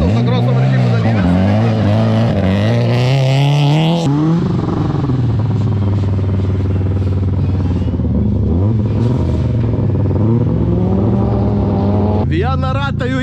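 An autocross race car engine on a gravel track at a Gravel Cup round in Uoginiai revs hard and close. Its loud, continuous drone rises and falls in pitch as the car accelerates and shifts.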